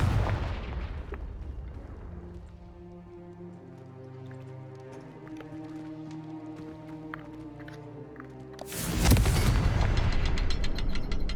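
A Confringo blasting spell in Hogwarts Legacy erupts in a loud, booming explosion at the start, then a second heavy blast bursts out near the end, with sustained musical tones ringing between them.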